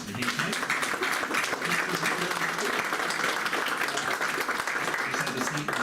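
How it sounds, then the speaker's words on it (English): Applause at a Grand Island school board of education meeting: a room full of people clapping steadily, dense and fairly close, holding an even level for the whole stretch with faint voices mixed in. "Let's give these guys a round of applause"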